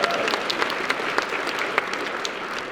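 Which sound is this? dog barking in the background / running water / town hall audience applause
town hall audience applause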